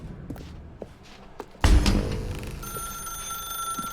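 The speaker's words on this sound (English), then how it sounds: "Now pick up the phone." In The Stanley Parable video game, a telephone starts ringing after a few soft footsteps and thumps: a sudden loud burst opens into a steady, bright electronic ring that carries on alone.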